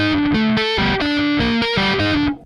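A distorted electric guitar chord, its clashing tritone removed, rings out loud and sustained, restruck a few times with a steady rhythm before cutting off at the end.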